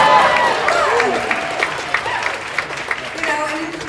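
An audience at a labor union rally applauds in a steady wash of clapping close by, fading slightly as it goes on, while a speaker's voice carries over it.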